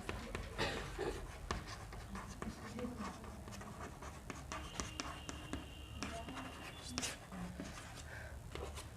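Chalk or pen scratches across a board during a class 10 physics lesson on reflection from a concave mirror, with quick bursts of strokes heard close and fairly quiet between soft breaths.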